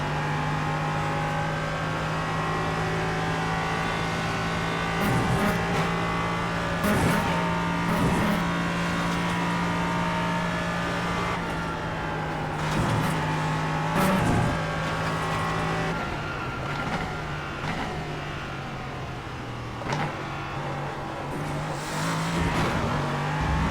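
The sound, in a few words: LMP3 race car engine accelerating in iRacing video game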